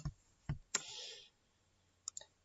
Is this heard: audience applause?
no